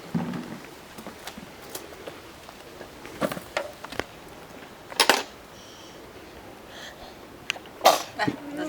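A person sneezes close by in a quiet indoor room. The sharp burst is followed later by a second, similar burst, with faint clicks and small knocks scattered in between.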